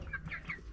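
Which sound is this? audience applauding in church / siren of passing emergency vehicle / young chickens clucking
young chickens clucking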